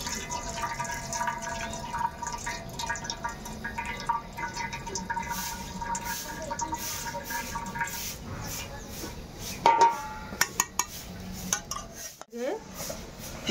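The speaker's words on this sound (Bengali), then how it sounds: "জল বেরিয়েছে, আমি এটাকে আস্তে আস্তে ফেলে দিচ্ছি" Water being slowly poured off boiled greens in a home kitchen, with dripping and splashing amid clinks of a pot and utensils, then a sharper burst of pouring and scraping near the end.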